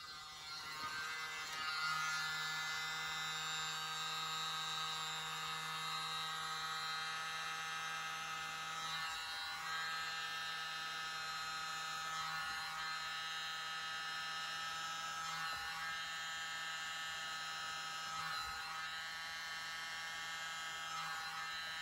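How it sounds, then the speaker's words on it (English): A small electric blower used on poured acrylic paint hums with a steady, close, buzzing whine that holds evenly throughout with only slight flickers, and no voices. "I'm going to use my messy blower."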